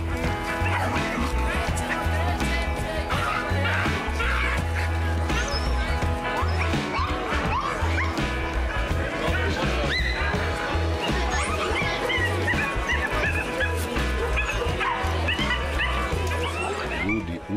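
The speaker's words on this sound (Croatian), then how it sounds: "A tu su i oni nemački lovni terijeri." Several German hunting terriers bark and yip at a crowded hunting fair, loud and repeated over steady music and chatter, with occasional whimpers among the noisy crowd.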